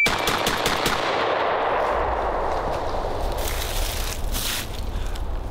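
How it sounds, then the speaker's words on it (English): Panzer AR-12 semi-automatic 12 gauge shotgun firing high brass in a rapid string, loud sharp blasts in quick succession with echoing report outdoors, no talking. "5 shots under 1 second. For a 12 gauge shooting high brass, I mean, it just freaking runs."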